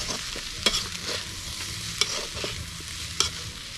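A spatula stirs and scrapes pad thai sizzling in a frying pan, with a steady frying hiss and three sharp metallic scrapes against the pan.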